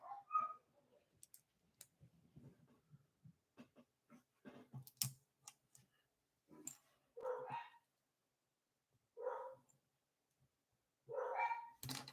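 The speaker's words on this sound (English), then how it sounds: "Unless my dogs don't calm down" Dogs bark indoors in short bursts, with yips and scattered clicking noises between the barks, moderately close and otherwise quiet.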